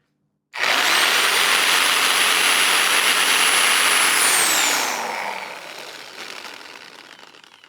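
Sawzall reciprocating saw powered from a Sur Ron Light Bee X e-bike battery power station roars on loud and steady for about four seconds, then its motor winds down and fades with a sagging pitch.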